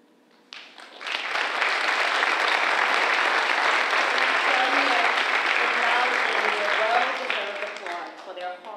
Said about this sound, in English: Well-deserved applause for their hard work and accomplishments this year.